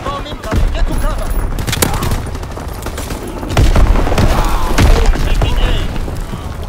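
Heavy bomb explosions and constant overlapping rifle and machine-gun fire on a Call of Duty WWII battlefield form a loud, dense din with deep booms throughout. Muffled voices are mixed in.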